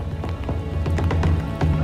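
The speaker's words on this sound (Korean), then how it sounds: "지친 주민들을 응원이라도 하듯 비가 떨어지기 시작했다." Rain begins falling in a village in a valley, a steady patter of drops on surfaces with a low rumbling hiss, fairly loud and close, with no voices.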